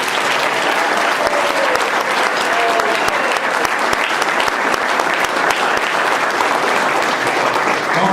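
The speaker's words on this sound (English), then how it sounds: "Don't give her more applause than you did" Enthusiastic audience applause at a foundation gathering, loud sustained clapping from a large crowd that stays dense and even for several seconds.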